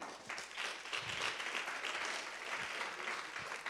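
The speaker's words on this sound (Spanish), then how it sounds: "Démosle un aplauso al Señor." Church congregation applauding during a Spanish-language sermon, a steady, fairly faint wash of many hands clapping in a large room.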